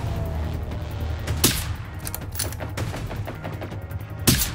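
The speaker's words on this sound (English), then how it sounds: "I think they're fighting NPCs right now." Computer-controlled characters fight with guns in the game Generation Zero: a steady din of combat with a few sharper, louder shots standing out, fairly distant and with no talking.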